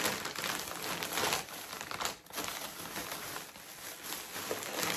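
A plastic bag holding a mystery fabric bundle is cut open and handled. Close, dense crinkling and rustling runs nearly the whole time, broken by one brief lull.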